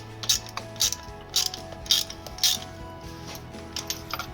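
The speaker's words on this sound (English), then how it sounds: "I would crack them first with the normal ratchet. Loosen them off a little bit." Ratchet clicking as spark plugs on a Toyota Aygo are loosened, with about seven sharp close bursts of rapid pawl ticks in a steady rhythm over a faint low background hum, and nobody talking.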